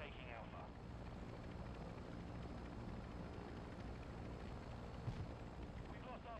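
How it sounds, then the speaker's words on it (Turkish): Military helicopter in the multiplayer shooter Call of Duty: Modern Warfare 2, a steady broadband rotor and engine roar throughout, dense and constant, with game effects layered over it. "Baya büyük yalnız bu arada helikopter ya."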